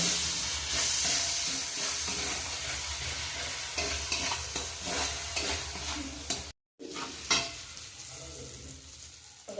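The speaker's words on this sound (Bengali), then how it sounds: "মশলাটা কষিয়ে নেব" Spice paste being sautéed for a mixed-vegetable dal, sizzling and frying steadily in a pan with repeated stirring scrapes and a brief break near the end.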